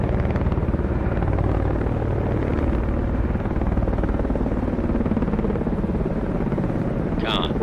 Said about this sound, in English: Con, flight code, aircraft is in the air.